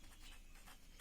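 Pen or marker writing on a board for a maths lesson, a soft scratchy stroking that runs steadily through the moment at close range, with no voice over it.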